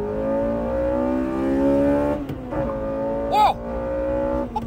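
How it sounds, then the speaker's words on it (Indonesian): Honda Integra Type R revving hard through its gears, the engine note climbing and dropping at each shift with a brief tire chirp as the wheels spin; a voice exclaims over the loud, close engine. "Itu gigi 3 spin bannya waktu pindah gigi"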